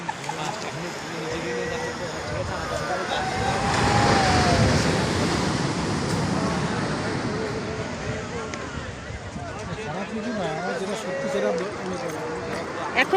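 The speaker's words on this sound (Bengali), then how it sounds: "সমুদ্রে ঢেউ দীঘা সমুদ্রের কত ঢেউ" Sea waves at Old Digha beach on a quiet afternoon, a continuous broad wash of surf with wind buffeting the microphone, swelling slightly midway and staying steady throughout.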